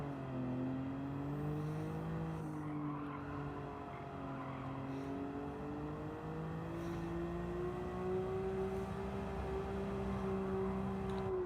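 Racing car engine from the Gran Turismo game drones steadily at a sustained pitch with gentle rises and dips as the throttle and brakes are worked, continuous and fairly loud with no voices.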